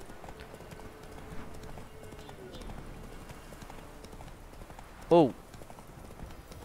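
A horse walks in The Witcher 3 with quiet, steady clip-clop hoofbeats low under the game's ambience. Near the end a man lets out a short, loud exclamation.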